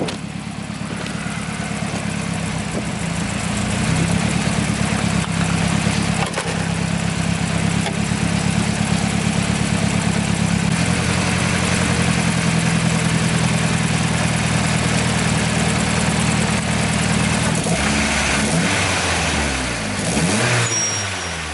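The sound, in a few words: Nissan 240SX engine idling with timing chain rattle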